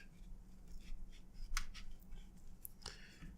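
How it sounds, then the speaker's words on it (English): Scissors snip through paracord a few times, with one sharper cut standing out above quiet room tone; the short crisp clips are close up and heard alone. "So I'm going to cut the cord."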